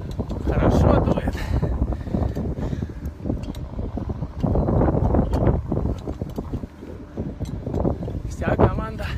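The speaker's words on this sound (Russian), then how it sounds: "Хорошо дует." Strong wind gusting at the top of the mast of the sailing ship Kruzenshtern, loud buffeting roar that rises and falls in waves, with a voice talking over it.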